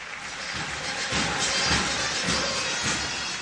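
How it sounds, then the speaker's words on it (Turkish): An audience at a Bayrampaşa awards ceremony applauds with a dense, roomy patter of many hands that swells a little in the middle and keeps going at a fairly loud, even level. "alkış"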